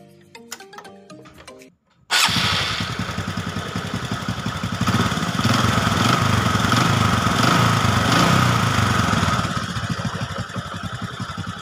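A poorly maintained Honda Supra 125 motorcycle engine starts after a short stretch of background noise and then runs steadily near the listener, a rough, rattly mid-pitched idle that holds loud for about ten seconds with no speech.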